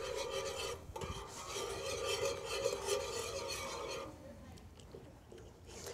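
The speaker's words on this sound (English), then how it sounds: "just whisk it together until it thickens a little bit to make your sauce" A whisk scrapes steadily against a pot as stock is whisked into a mac and cheese sauce, a continuous raspy rubbing that eases off near the end, with no talking.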